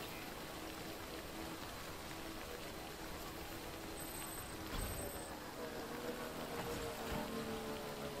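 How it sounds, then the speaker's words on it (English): Heavy rain falls steadily in the video game Death Stranding, a constant broadband hiss of downpour with a brief soft thump partway through, no voices. "It's heavy rain too."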